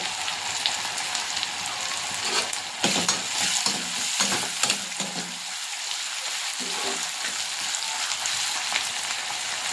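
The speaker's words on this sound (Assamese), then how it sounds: "এইখিনি অলপ সময় ভাজি লম" Onion, green chilli, ginger and garlic fry in a pan with a dense, hissing sizzle. Repeated scraping strokes and clatters from stirring come through clearly in the middle stretch.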